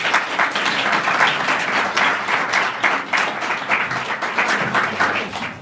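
Sustained applause from a seated audience at a Polish public meeting, dense overlapping claps held at a steady loud level for several seconds with no voices on top.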